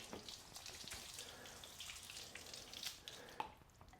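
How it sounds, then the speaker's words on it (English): Garden hose water sheeting off a car's door panel after washing, a faint, soft continuous trickle and splash with small drips, heard alone and close. "after you've washed your car, you can take your hose and simply sheet the water off"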